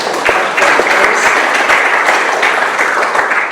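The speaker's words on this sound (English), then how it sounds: "Can we clap for that too?" Steady applause from a crowd, many hands clapping continuously for several seconds with sharp individual claps standing out.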